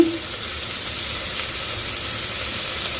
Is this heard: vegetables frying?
yes